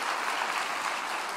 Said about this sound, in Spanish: Denle un aplauso al rey si me está entendiendo.